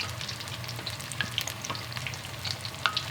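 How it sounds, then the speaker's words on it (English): Cauliflower chunks frying in oil while being stirred and broken up, a steady sizzle with scraping and clinking of the utensil, close and alone. "After 2-3 minutes, you can start stirring around the cauliflower and breaking it up in chunks"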